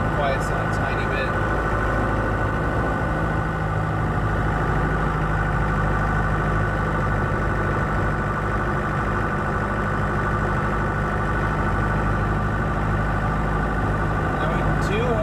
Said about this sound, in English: Still a little cold, so she's going to be a little bit louder than she normally is.